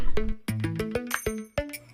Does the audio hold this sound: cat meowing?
no